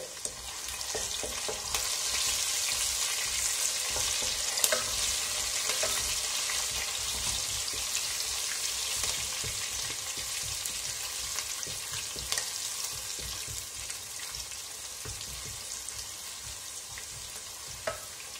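Ginger, garlic and crushed green chillies sauté in a pan for a Kerala-style egg curry, a dense continuous sizzle and crackle with scattered stirring scrapes, close and steady throughout, no voices.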